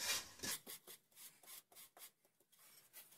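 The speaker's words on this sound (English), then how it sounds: "With the wooden stick, we actually slowly moving excess of bad mud to where the center, to where the drain really" A wooden stick scrapes and rubs mud across a shower floor toward the drain, a run of close, raspy strokes repeating in an uneven rhythm with no talking.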